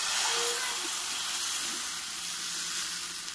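Appam batter hits a hot dosa pan and sizzles in a steady, fairly loud hiss that fades slightly over a few seconds.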